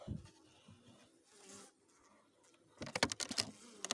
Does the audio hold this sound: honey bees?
yes